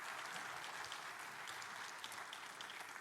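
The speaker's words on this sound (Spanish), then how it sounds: "Un fuerte aplauso para él" Audience applause at a security conference talk, a steady dense clatter of many hands clapping that holds at an even level throughout.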